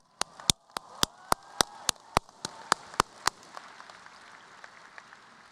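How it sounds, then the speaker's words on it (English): Evenly spaced sharp handclaps at a high school graduation ceremony, about a dozen crisp single claps in a steady beat, close and alone, then fading into quiet room tone. "I believe that deserves a big round of applause"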